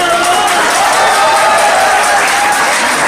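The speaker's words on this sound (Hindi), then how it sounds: "लड़कियों के नाम पे बहुत ज्यादा ताली बजा रहे हैं" An audience bursts into dense, sustained applause, loud and close, a continuous wash of clapping with faint crowd noise mixed in.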